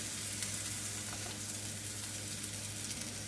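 Onions and mushrooms sizzling steadily in a frying pan, a soft continuous crackle with no voices.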